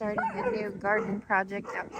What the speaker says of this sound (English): Sorry about my dog noise.